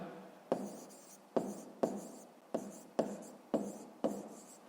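Pen strokes on paper while a fifth-grade maths exercise is written out, sounding as a series of about seven short scratching bursts, each starting sharply and fading, close and fairly quiet, with no talk.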